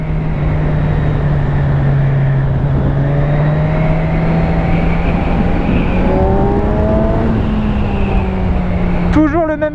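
Kawasaki Z1000SX 2017 four-cylinder motorcycle engine on the move, a steady, loud engine note that rises and falls in pitch through gear changes under heavy wind rush, ending with a brief clunk.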